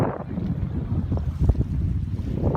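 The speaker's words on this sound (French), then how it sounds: "le vent souffle fort" Strong wind buffeting outdoors, a loud, rough rumbling gust noise with uneven swells and thumps, steady throughout with no voices.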